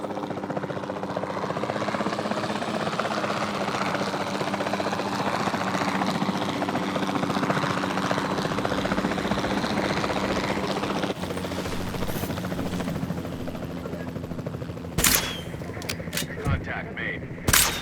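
A capture team helicopter in Jurassic World Evolution 2, its rotor thumping steadily throughout, with sharp bursts like tranquilizer gunshots toward the end.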